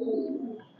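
A single pigeon coos once at a pigeon farm, a close, low, throaty note that fades over under a second, with no voices.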